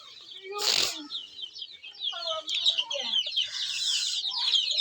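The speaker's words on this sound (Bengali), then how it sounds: "এই যে আমার মুরগি খামার, এগুলো বড় মুরগি।" Hens on a small hobby poultry farm cluck and chatter close by, opening with a sharp loud squawk and then running into a busy stream of overlapping clucks and calls.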